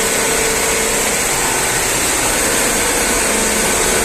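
An ice machine's electric motor runs with a steady, loud hum and a high-pitched whine, continuously without breaks, with a soft start.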